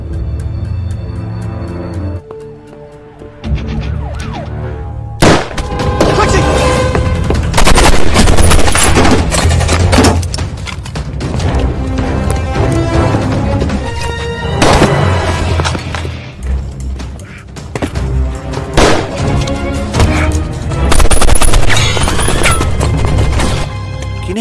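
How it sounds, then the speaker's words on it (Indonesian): Film gunfight between a lone marshal and a biker gang leader: loud, dense bursts of gunshots and rapid fire crash over a busy soundtrack, coming in heavy waves with no speech. "Kini hanya tinggal Diablo dan Marshal Jim yang sedang berbaku tembak"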